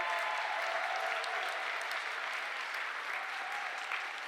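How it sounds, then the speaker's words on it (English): Steady applause from a crowd at an event at the Capitol, a dense wash of clapping that holds at an even level throughout without any voices rising above it. "can we have a round of applause for all the volunteers who helped put this day together?"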